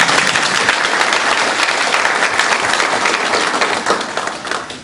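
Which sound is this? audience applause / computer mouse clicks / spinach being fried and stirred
audience applause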